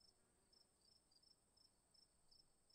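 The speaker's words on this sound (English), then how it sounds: "Crickets." A crickets chirping sound effect plays as faint, steady, high-pitched pulses that repeat at an even rhythm, then end in a brief loud click.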